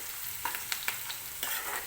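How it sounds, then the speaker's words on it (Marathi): Onion frying in oil in a pan, a soft sizzle broken by a few sharp stirring clicks and scrapes, close and fairly quiet. "थोडासा मऊ होईपर्यंत आपण हा कांदा तेलामध्ये भाजून घेणार आहोत"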